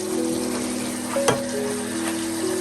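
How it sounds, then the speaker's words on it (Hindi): Fish korma masala is being roasted in hot oil and gives a steady, loud, close sizzle, with one brief clatter of a spoon stirring the pan midway. "पाँच से 6 मिनट इस मसाले को हो चुके हैं और ये मसाला भी हमारा बहुत अच्छे से भुन चुका है।"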